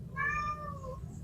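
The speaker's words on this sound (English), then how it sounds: "That is a cat." A single cat meows once, a short rising-and-falling call heard close and fairly quiet against a faint low background hum.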